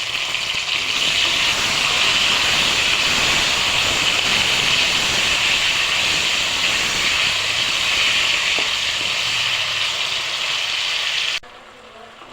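Chopped tomatoes and green chillies hit hot oil in a frying pan with golden fried potatoes, giving a loud, continuous hissing sizzle that cuts off abruptly near the end.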